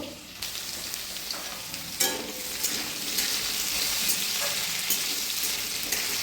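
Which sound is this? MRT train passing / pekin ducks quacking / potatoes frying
potatoes frying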